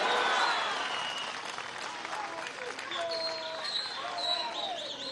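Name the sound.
audience applause for the armed forces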